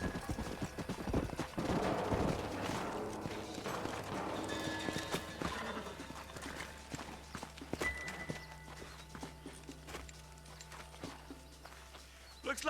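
Horses in a Western setting from Red Dead Redemption clop along, then slow and stop, their hooves mixing with tack jingles, a brief whinny and scattered gear noises, moderately close.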